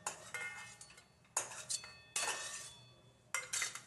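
Dishes and a metal utensil clink sharply as toasted dried coconut is moved onto a plate, with several quick bursts of clatter separated by short pauses and no talking.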